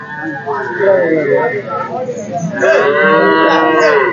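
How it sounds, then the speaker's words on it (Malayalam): Cattle tied up outside a cattle market moo loudly in several long calls, one early and a stronger overlapping lowing in the second half, amid open-air crowd noise. "ചന്തയിൽ നിന്ന് പുറത്തേക്ക് വാങ്ങിച്ച് കെട്ടിയിരിക്കുന്ന മാടുകളാണ് ഇതെല്ലാം"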